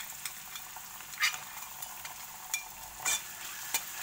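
Ginger garlic paste frying and being stirred in a pan, a soft steady sizzle with a few brief scraping clicks of the spoon, fairly quiet and without talk.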